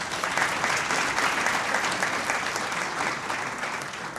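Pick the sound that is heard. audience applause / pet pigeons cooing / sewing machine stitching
audience applause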